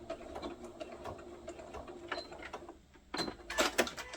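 A sewing machine back stitches fabric for a neck snood. Soft, irregular mechanical ticking and clicking sets in, then a brief louder burst of rapid stitching near the end, all fairly quiet and close.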